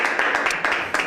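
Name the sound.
audience applause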